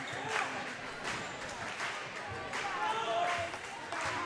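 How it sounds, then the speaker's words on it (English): Volleyball crowd and team bench clap in rhythm before a high school match in a gym, with repeated claps and crowd noise under a commentator talking throughout. "both crowds like to do this little pregame clap thing that you might see the BDS bench doing"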